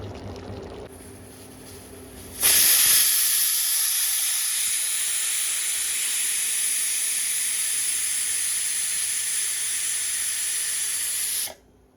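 A pressure cooker with kolai dal and mutton on the stove suddenly lets out a loud, steady jet of whistling, hissing steam that holds for about nine seconds and then cuts off abruptly.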